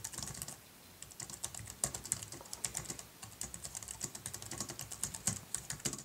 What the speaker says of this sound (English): so let's go ahead and start typing.